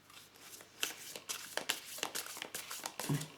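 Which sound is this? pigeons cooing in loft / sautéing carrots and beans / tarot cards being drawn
tarot cards being drawn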